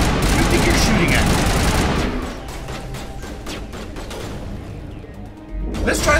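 Dense rapid gunfire and explosions fill a Mass Effect Legendary firefight, loud and continuous at first, then thinning into scattered shots before another burst.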